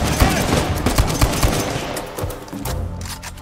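Sniper gunfire in the video game Uncharted 4, with several sharp shots cracking out in an irregular burst over the first second and a half, then fading into a busy game-world background.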